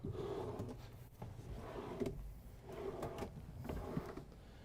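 Soft-close wardrobe drawers in a 2021 Newmar Kountry Star motorhome slide shut one after another, several soft rolling closes with muted thuds at the end, quiet and close by.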